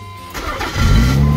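A Mazda Cronos car engine on an old battery cranks briefly and catches, then settles into a loud, close idle that runs to the end.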